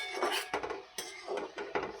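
A metal lid is lifted off a cooking pan, with a few close clinks and scrapes of metal on metal in quick succession over about two seconds.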